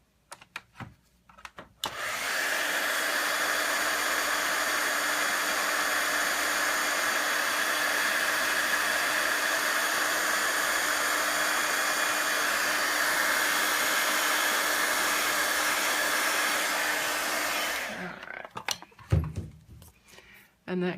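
A heat tool blows steadily on a Christmas card for about fifteen seconds, starting and stopping cleanly with a broad, even whoosh and short handling noises on either side.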